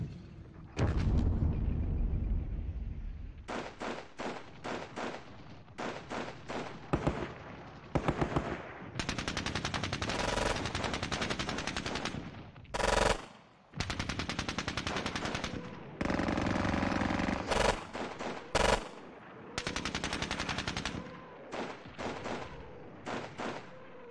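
German units fire at a Soviet T-70 tank on the Granary map of Squad Battles Red Victory: repeated bursts of machine-gun fire and rifle shots, some long and sustained, others short and sharp, separated by brief pauses.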